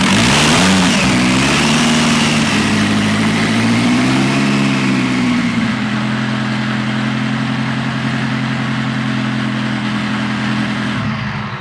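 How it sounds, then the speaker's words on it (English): A supercharged racing boat engine, Miss Daytona, roars loud and close, revving and surging at first before settling into a steady, thrashing mechanical rumble. "Hearing the engine is great."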